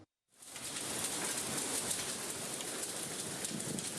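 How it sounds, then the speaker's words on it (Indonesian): Rain mixed with marble-sized hailstones pours down on a Friday evening in Madiun Regency, a dense, loud, unbroken roar that starts abruptly and continues steadily with no voices. "di sejumlah wilayah hujan turun bahkan disertai butiran es sebesar kelereng."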